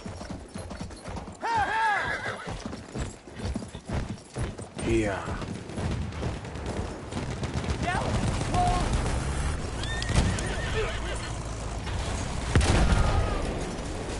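Horse galloping in Battlefield 1 on a hardcore conquest battlefield, with rapid hoofbeats, several whinnies and distant gunfire and booms, while a player talks over it.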